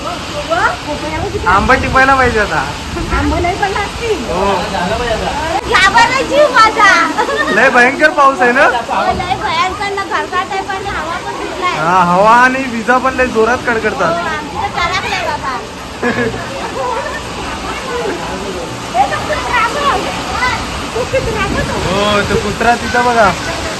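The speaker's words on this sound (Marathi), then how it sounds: "लय जोरात झालंय ना पाऊस मंडळी लय भयंकर वारा सुटलाय" Steady roar of heavy rain and gusting wind, heard from inside a house with doors and windows shut, continuous and loud throughout, with voices talking over it at times.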